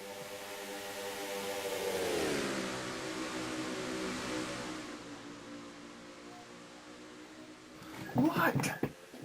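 Race truck engines in a NASCAR-style truck series sim racing game, a steady harmonic drone that shifts pitch around two seconds, then sustains, with a burst of other sound near the end.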